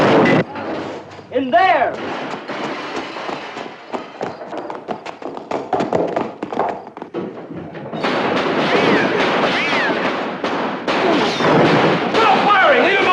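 Gunfire in a 1959 sci-fi horror film scene, a string of sharp, loud shots cracking out in rapid bursts among shouting voices, building into denser noise toward the end.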